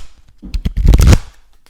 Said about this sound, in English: I'm talking over your card shuffle ASMR.